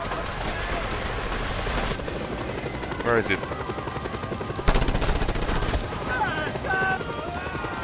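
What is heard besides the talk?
Air Force helicopter arriving with gunfire, Just Cause 2 video game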